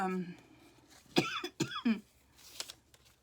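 A couple of brief throat-clearing coughs break up quiet, close talking.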